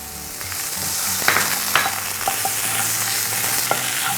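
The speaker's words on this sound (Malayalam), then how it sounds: "നല്ല കളറ് മാറുന്ന വരെ വഴറ്റിയെടുക്കണം ഇതിലോട്ട് ഒരു സ്പൂൺ ജിഞ്ചർ ഗാർലിക് പേസ്റ്റ് ഇട്ട് കൊടുക്കുക" Onions sautéing in a pan with a spoonful of ginger garlic paste for a Malayali egg masala: a steady close sizzle, with stirring scrapes and taps of the spoon against the pan throughout.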